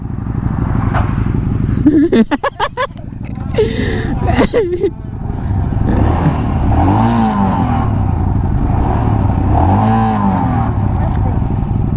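An RTR motorcycle on a road ride in Maharashtra, its engine droning loudly and close and rising twice in throttle-twist revs, with voices talking over it.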